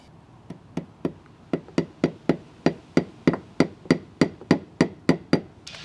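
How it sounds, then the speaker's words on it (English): A hammer taps cable clips into a brick mortar joint, giving a steady series of about sixteen sharp, close knocks that gradually grow louder. "Hopefully they'll tack into this mortar joint"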